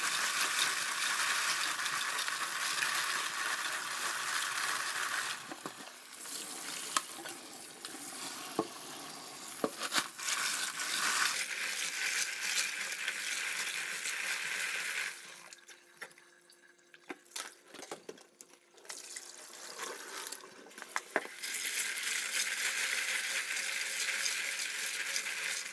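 Clams (lala) are washed and swished around in water, giving a continuous rushing, splashing wash that drops away briefly twice before resuming, with no talking.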